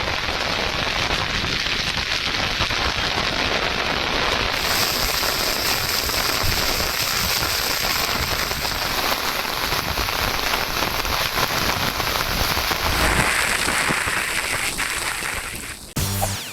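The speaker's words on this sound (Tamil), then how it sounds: "சாலைகளில் மழைநீர் பெருக்கெடுத்து ஓடுவதால்" Heavy rain pours steadily onto roads flooding in Gujarat, a dense, continuous hiss of drops pounding wet surfaces throughout, with a few sharper splashes near the end and no voices.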